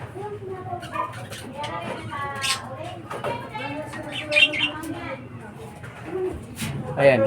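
Several pet birds in a large cage give repeated coos and short chirps at close range, while a person talks over them throughout.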